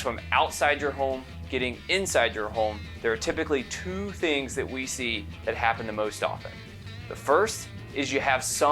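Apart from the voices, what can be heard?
No everyday noises stand out.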